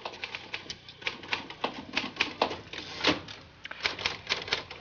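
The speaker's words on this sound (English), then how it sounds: "Oh, Sal, I love to listen to you typing." Rapid clattering typewriter keystrokes in an office, crisp and close, in uneven bursts with brief louder strikes; no distinct bell stands out and no one speaks.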